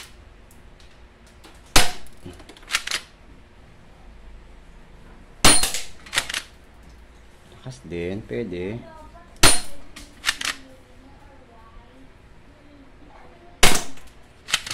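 Manual plastic airsoft gun firing, sharp loud snapping shots spaced a few seconds apart, each followed by small clatters and handling clicks, with someone talking briefly between shots.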